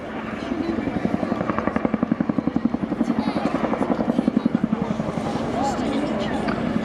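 A Chinook helicopter flying a display at RAF Cosford Airshow, its twin rotors making a loud, rhythmic blade thump that swells and fades, while a commentator talks over it throughout.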